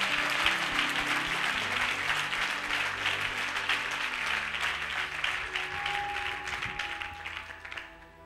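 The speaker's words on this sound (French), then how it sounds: "Can we clap for Jesus?" A church congregation applauding for Jesus, dense sustained clapping from many hands that fades near the end, with some background tones beneath.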